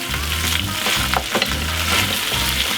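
Garlic, carrots and onion sizzle steadily in a hot pan while being stirred, the frying loud and close, with rhythmic scraping of the spatula and no talk.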